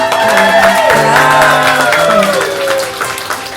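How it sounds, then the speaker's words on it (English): Wedding guests applaud and cheer for the newly married bride and groom at the reception, a dense, loud wash of clapping with whoops and shouts throughout, while sustained music plays underneath. "Let's give our lovely bride and groom a nice round of applause."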